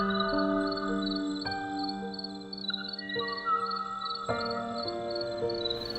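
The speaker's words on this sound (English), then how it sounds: "For 5 years, the very last Kauaʻi ʻōʻō kept singing in the empty forests, calling for a mate that would never come." The song of the last Kauaʻi ʻōʻō rings through an empty Hawaiian forest, a series of clear, whistled tonal notes and phrases spaced apart, moderately faint over a quiet background.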